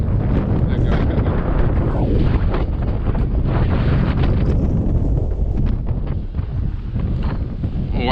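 Strong wind blows outdoors at night in San Francisco and pummels the microphone. The rumbling, gusty roar is loud and nearly constant throughout.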